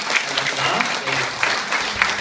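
Audience applause after a talk, with steady clapping throughout and voices mixed in underneath.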